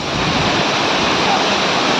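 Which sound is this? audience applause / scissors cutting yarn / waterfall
waterfall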